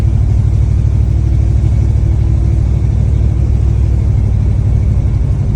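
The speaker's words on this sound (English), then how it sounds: "So we're going to get on it a little bit here for you to let you know what it'll do." A 1960 Ford F-100 Stepside restomod with a 425 big block Oldsmobile engine gives a loud, steady, deep engine rumble under acceleration, heard from inside or close by, with no talk.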